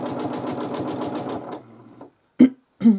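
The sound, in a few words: sewing machine free motion quilting swirls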